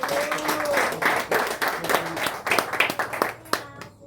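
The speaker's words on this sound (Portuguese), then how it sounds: "Pode aplaudir o Senhor" A congregation at a home church service claps together, a lively, fairly close burst of hand clapping mixed with voices, which thins out toward the end.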